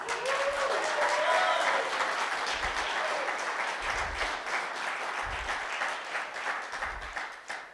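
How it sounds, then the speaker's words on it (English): Sustained audience applause at a security product showcase, a dense, steady wash of many hands clapping at moderate loudness, with a few low thumps underneath and a brief voice near the start. "you can start clapping now"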